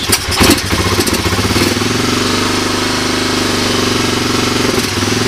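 A Honda 250SX motorcycle, cold-started after sitting ten years, fires up and runs at a loud, close, rapid rattling idle that holds steady throughout, sounding slightly uneven as it runs lean.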